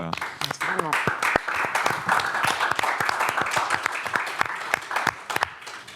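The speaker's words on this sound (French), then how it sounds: "Je pense qu'on peut applaudir encore" An audience claps at a talk after thanks to a speaker: steady applause from many hands at moderate level, with a brief voice at the start.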